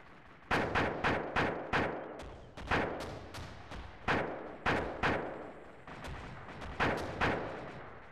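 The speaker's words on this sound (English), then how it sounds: "I love the sound of a grenade launcher." Grenade launcher fire in the video game ARMA 2: a long run of loud, sharp booming shots, about a dozen, spaced irregularly with short decaying tails, with no talking.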